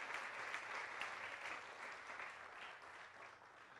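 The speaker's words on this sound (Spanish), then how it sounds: "Dele un aplauso al Padre" Congregation applauding in a church service, steady dense clapping throughout, moderately loud and continuous with no talk over it.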